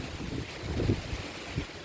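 Fairly quiet gusting wind from passing Gulf storms, with low rumbling buffets on the microphone, rising and falling softly over a garden; no one speaks.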